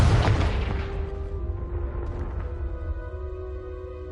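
A Confringo blasting spell explodes in a video game, a loud booming burst at the start whose deep rumble and crackling debris decay slowly over several seconds.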